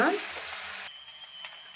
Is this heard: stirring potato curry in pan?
yes